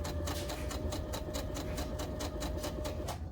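A sewing machine stitches two layers of scrunchie fabric in a quick, even run of mechanical pulses over a low hum, close and continuous, then stops at the end.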